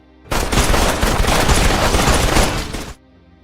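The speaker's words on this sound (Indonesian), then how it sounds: "drian menjawab tidak ada sehingga Reacher CS langsung memberondongnya dengan tembakan." A loud, sustained burst of rapid automatic gunfire in an action film scene rattles for about three seconds, then stops abruptly into silence.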